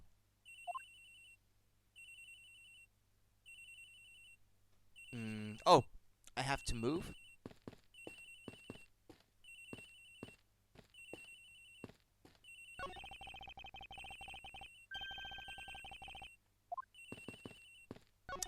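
An electronic cell phone ringtone chirps in repeated short bursts within the Nintendo DS game Ace Attorney Investigations: Miles Edgeworth, surrounded by game sound effects and dialogue blips, while a person talks over parts of it.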